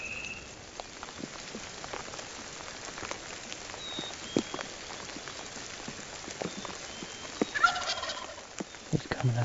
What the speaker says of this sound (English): the turkeys were gobbling on the limb